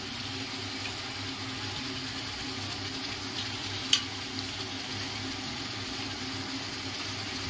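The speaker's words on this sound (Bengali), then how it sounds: "মাংসটা দিয়ে দিলাম, এবার বেশ করে কষাবো" Meat being fried and stirred in a pan gives a steady, even sizzle with low background rumble and a single faint utensil tap partway through.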